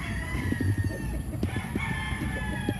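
Chickens and a rooster cluck and crow in a busy farmyard, with steady low rumbling and scattered short calls over constant background noise.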